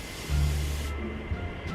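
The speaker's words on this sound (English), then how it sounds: "I love these spray bottles, best ever. Look how it sprays." A handheld pump spray bottle mists water onto quilt fabric, giving a short close hiss with a low rumble beneath, about a second and a half of steady spray.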